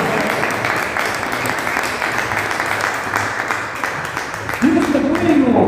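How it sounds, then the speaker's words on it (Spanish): Congregation applauding loudly for the Lord during a Spanish-language church Bible study on Ephesians, a steady wash of clapping that carries through to the end, where a voice rises over it. "Dale un fuerte aplauso al Señor"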